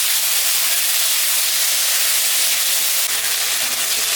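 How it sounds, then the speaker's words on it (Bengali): Potato and taro pieces frying in hot oil after onions have browned, producing a steady, loud hiss and sizzle that holds evenly throughout with no talking. "একটা আলু আর দুটা কচুর বই দিয়েছি। এটা এখন আমি ভাজা ভাজা করে নেব।"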